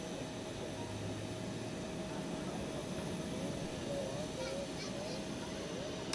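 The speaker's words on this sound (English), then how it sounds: "As we wave off this TAP A321 to Lisbon." A TAP Airbus A321 bound for Lisbon departs Zurich Airport, its engines giving a steady broadband roar that holds evenly for the whole stretch at moderate distance, with no voices.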